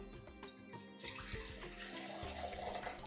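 Water is poured into a cooking pot for a horse gram (kollu) lentil curry, starting with a few clinks and then becoming a steady splashing, gurgling stream that runs close and fairly clear without talk.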